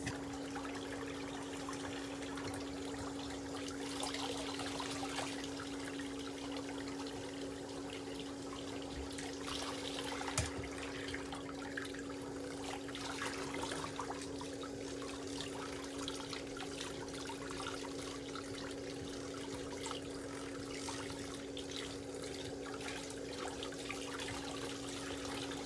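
Water runs steadily from a tap during a pedicure as the legs are rinsed, making a continuous close hiss with a faint hum and small splashy shifts, and nobody talks.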